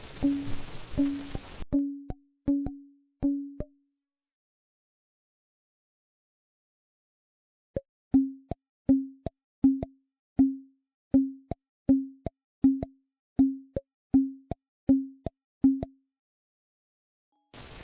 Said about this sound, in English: pipe and tube resonators are perfect for creating percussive elements such as toms